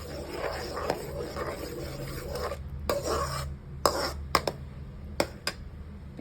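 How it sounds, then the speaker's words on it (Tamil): Steady scraping and rasping of a spoon stirring pumpkin pasta sauce with pasta cooking water in a pan, with a few sharper clinks of utensil on metal toward the end. "இதையும் நல்லா மிக்ஸ் பண்ணி விடுங்க."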